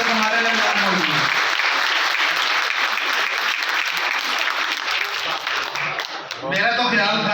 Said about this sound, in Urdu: تو میری آپ سے گزارش ہے کہ ایک دفعہ تالیاں بجائیں کہ اتنی بڑی شخصیت ہمارے درمیان موجود ہے